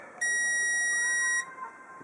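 A 300 W inverter running off an alum electrolyte car battery gives one sustained, shrill warning beep lasting just over a second, close and clear over faint background hum.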